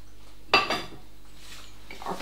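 A pie dish set down on a kitchen counter while making a chicken, ham and leek filo pie, one clear close clatter of dishware followed by a faint softer knock.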